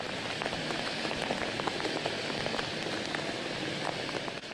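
Rain falling in Karachi during a summer spell of showers, a steady dense patter of drops on surfaces with scattered sharper splashes, even and continuous with no talk.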